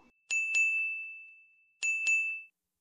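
Two pairs of bright bell dings sound as a notification chime, each pair struck twice in quick succession and left to ring out and fade, clean and close against silence.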